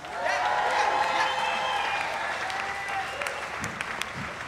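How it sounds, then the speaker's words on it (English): An outdoor festival audience applauds drummer Tom Holler, a broad, dense wash of clapping and crowd noise that swells early, then thins slightly with a few sharper claps near the end. "How about a round of applause for Mr."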